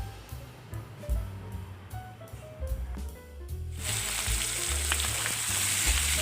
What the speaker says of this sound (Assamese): এই মাছ ভজা তেলতে মই পিঁয়াজ, শুকান জ্বলা, তেজপাত আৰু গোটা জিৰা দি মই এনেকৈ মই ভাজি লৈছোঁ।